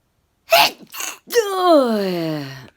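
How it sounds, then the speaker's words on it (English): A person sneezes close up, two quick sharp bursts followed by a long drawn-out voiced exhale that slides down in pitch. "I'll talk when I finish sneezing."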